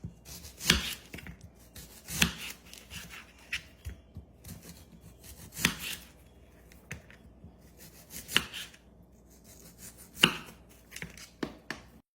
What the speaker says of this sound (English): slice our onion into rings